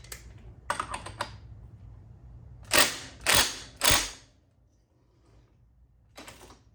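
Ratchet working a reverse-thread part off a Kawasaki KFX 400 quad with top end failure, giving short bursts of close, sharp clicking followed by three louder separate clacks and one last brief burst.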